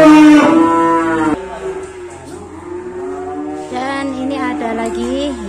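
Simmental bulls moo loudly and close by as they are unloaded, with a long drawn-out call first and then lower, rising moos, along with faint background noise.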